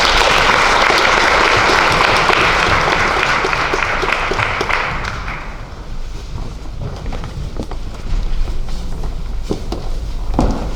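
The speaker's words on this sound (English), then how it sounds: "Please give her a round of applause." An audience at a solemn genocide commemoration applauds loudly and steadily, then the clapping thins to scattered claps and fades, with some handling noise beneath.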